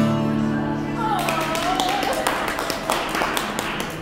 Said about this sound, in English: Everyone is clapping about me.